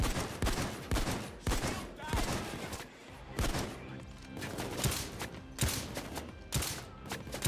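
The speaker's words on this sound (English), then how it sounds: "The Dragon Breath shotguns." Dragon's Breath shotguns blast in the game Payday 2, a rapid series of loud, sharp shots repeating roughly every half second in a busy, layered firefight.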